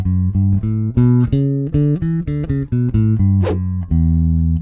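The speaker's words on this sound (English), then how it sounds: "So that scale sounds like this." A bass guitar plays an E Dorian scale, a run of distinct, evenly spaced notes going up, clear and close, with no voices.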